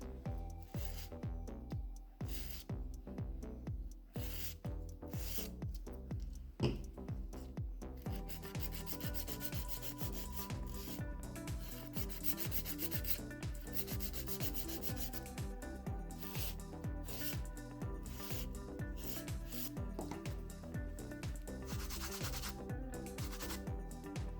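An acrylic nail being filed and shaped, with a long stretch of fast, rhythmic scraping strokes close by, quiet and alone and without talk.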